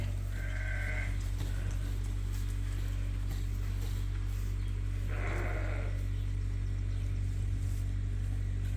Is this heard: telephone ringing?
no